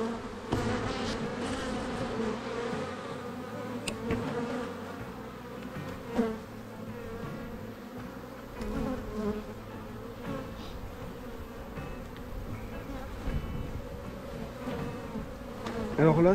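Buckfast honey bees hum in a dense, continuous drone around an open hive, close and steady, with occasional louder buzzes as individual bees pass near and faint handling noises underneath.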